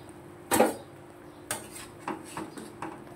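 Chhana jalebis poured out of a syrup pan, heard as one loud metallic clank of the pan followed by several lighter, spaced knocks and clinks, close by with no talking.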